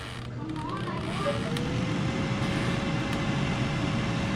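An air fryer runs while cooking onion rings, giving a steady, even fan whir and hum that holds at one level throughout.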